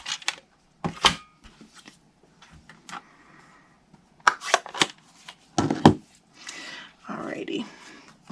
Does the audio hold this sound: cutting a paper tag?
yes